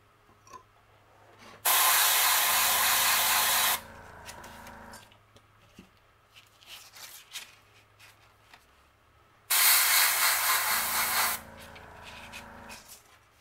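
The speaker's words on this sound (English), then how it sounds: "then spray some darker ones on top, it really gives it a lot of depth." Spray painting a fishing lure, with darker coats going over a lighter base: two loud, steady hissing bursts of about two seconds each, separated by a quiet gap with faint handling noises.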